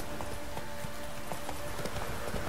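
Hooves pound in a steady rapid rhythm as a horse gallops along a path in The Witcher 3: Wild Hunt, the clip-clop close and continuous over a constant game backdrop.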